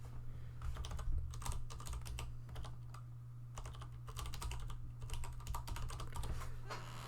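Rapid clicking of a computer keyboard as a password is typed, bursts of close keystrokes in uneven runs over a steady low electrical hum, with no voices.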